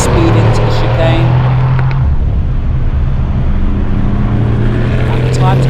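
A Mercedes-AMG GT R races at speed into a track chicane. Its engine roars loud and steady, and the pitch drops briefly partway through before it pulls on.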